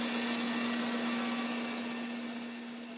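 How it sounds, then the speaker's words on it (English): Bandsaw resawing a board of wood: a loud, steady whirring roar with a constant motor hum underneath, running alone and easing off slightly toward the end. "before you try to do a rip cut or a resaw with your bandsaw"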